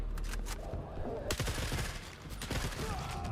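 Gunfire in Forever Winter, with several sharp, loud reports in quick succession over a noisy battle backdrop.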